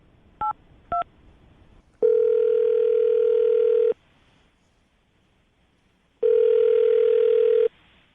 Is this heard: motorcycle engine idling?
no